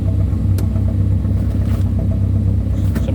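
A Banham kit car's engine idles steadily outdoors, a loud continuous low rumble with an even pulsing throb and a couple of faint clicks over the top, no talking.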